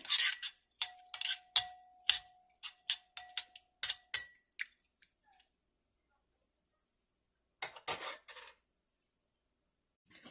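Chopped parsley, garlic and oregano for cheesy garlic bread being stirred together in a bowl, giving a run of close, sharp clinks and taps of a utensil for several seconds, then a pause and a short final burst of scraping clatter.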